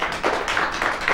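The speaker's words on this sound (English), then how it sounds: "Let's give him a round of applause" A small crowd at a live comedy quiz show gives a short round of applause, with a few quick rhythmic clapping bursts that are moderately loud and close.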